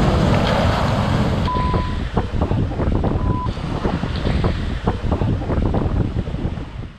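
Storm wind from Storm Kira in Scotland roars loudly and continuously, buffeting the microphone with a dense, rushing blast and no voices.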